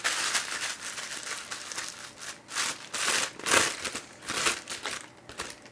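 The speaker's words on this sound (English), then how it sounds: "crumple it up," A roughly 12-inch square of parchment paper crumpled by hand in a kitchen, giving close, continuous crinkling with soft rustling surges.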